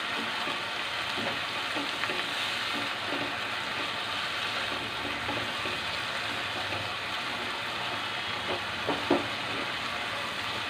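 Spice paste frying and being stirred in a pan for a pabda fish curry with tomato, a steady low sizzle broken by soft scraping and clinking of the spoon.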